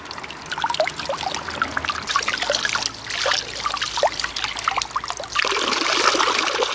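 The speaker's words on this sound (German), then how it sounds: "da werde ich jetzt meine Flasche mit Wasser auffüllen" Water trickles and splashes from a fountain behind Furtwangen as a bottle is filled, a steady gurgling pour close by that grows fuller and louder toward the end.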